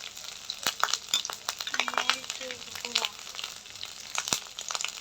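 Ground coriander paste, coriander powder, turmeric and chili powder frying in a pan for a prawn malai curry, a soft crackling sizzle broken by scattered taps and scrapes of stirring, close and fairly quiet.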